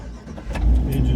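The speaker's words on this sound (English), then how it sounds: "start engine" A motorhome engine cranks and catches partway through, the short start settling into a loud low idle rumble, with no talk over it.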